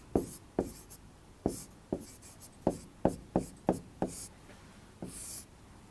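Chalk or marker strokes on a classroom board during a Hindi-language nutrition lesson, a series of about ten sharp, scratchy taps and short scrapes in uneven rhythm, close and clear with no talk.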